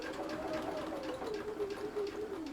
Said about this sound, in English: we put a lock stitch on the end and we're just going around slowly